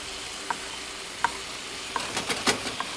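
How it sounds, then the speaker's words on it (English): Quiet pan frying with a soft sizzle, broken by a few light clinks and stirring scrapes spaced out over a few seconds. "I'm still frying these because these things are a little red on the insides"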